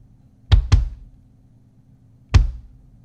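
Three deep, punchy kick drum hits with sub-bass EQ and heavy low-end boom: two quick beats close together, a pause, then a third, with a faint hum underneath.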